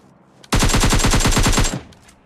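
A rapid automatic burst of gunfire in the mobile shooter PUBG Mobile Lite, about a dozen sharp evenly spaced shots lasting over a second, loud and close, with a short echoing tail afterwards.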